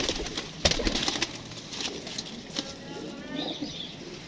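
Pigeons coo softly and faintly, with a sharp flap or knock near the start and outdoor background noise around them.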